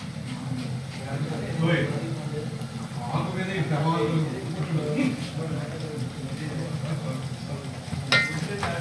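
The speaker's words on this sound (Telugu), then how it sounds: "ఇప్పుడు మనము అల్లం వెల్లుల్లి పేస్ట్ని తీసుకొని ఇందులో వేయిస్తున్నాం" Ginger garlic paste frying in a pan for a chicken liver fry, a steady close sizzle with occasional stirring, heard under continuous talking.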